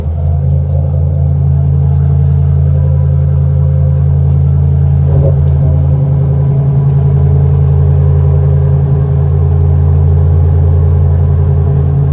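The engines of a Tollycraft 65 motor yacht run at a loud, steady low idle rumble throughout, a deep continuous drone close by with one brief knock midway and no talk.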